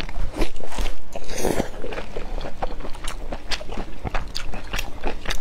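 Close, wet chewing and soft crunching of pork intestines and blood sausage, a continuous stream of bites and mouth sounds near the microphone.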